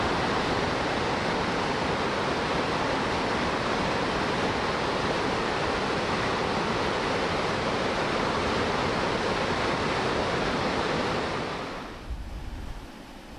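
Dettifoss in Iceland, Europe's most powerful waterfall, with grey-brown water falling about 45 metres across a width of roughly 100 metres, roars as a loud, continuous broadband rush that cuts out abruptly near the end.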